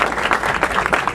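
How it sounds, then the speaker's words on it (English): Applause at an outdoor community press conference, a dense steady patter of many hands clapping at once, fairly loud and continuous with faint voices mixed in. "Purvi, all of the 8th District staff come up because they needed applause"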